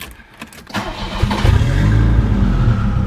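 A Volvo 760 turbo engine cranks briefly with the key, then catches and settles into a steady, loud idle close by.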